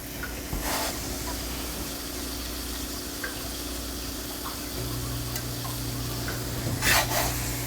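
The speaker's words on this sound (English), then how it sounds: "Then I'll fry this side just a little bit." Flour tortilla frying in a pan for beef tacos, giving a steady soft sizzle and hiss with a low continuous hum, a few faint taps and a brief louder scrape near the end.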